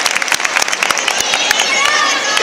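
An audience applauding dancers at a Patito Feo show in Valencia, a loud, rapid clatter of many hands clapping, with crowd voices mixed in.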